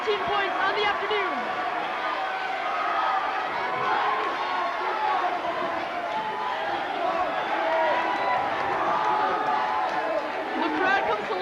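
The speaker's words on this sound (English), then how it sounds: "The crowd comes to life with 2:30 remaining." Crowd noise swells at a basketball game with a steady, dense roar of voices and scattered cheers, loud and continuous throughout, with announcer-like talk blended into the din.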